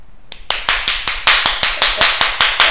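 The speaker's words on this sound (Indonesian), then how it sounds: "Itu tepuk tangan itu menandakan memanggil si burung itu supaya balik lagi" Sharp hand claps made to call a lovebird back, about a dozen evenly spaced, loud and close, with no talking over them.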